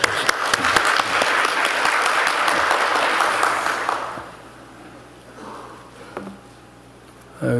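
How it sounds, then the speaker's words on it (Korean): A church congregation claps for the choir, loud, dense applause lasting about four seconds before fading into quieter room sounds with a few scattered noises. "박수하겠습니다"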